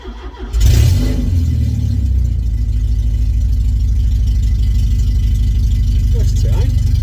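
A Ford Cortina engine fitted with a new coil and electronic ignition settles into a loud, steady idle as the choke is eased, after a brief starting burst at the outset, with a low even throb continuing to the end.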